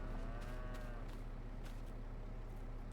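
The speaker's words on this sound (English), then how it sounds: "Go and check on my cows, because I've got a feeling they might be a bit hungry." Cattle in Farming Simulator 25 moo in a long, steady call that carries through the whole stretch, loud and close over a constant low farm-game hum, with no talk.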